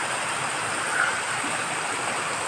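A mountain stream tumbles down from the hills as a small forest waterfall, producing a steady, full-bodied rush of water that stays constant and close throughout.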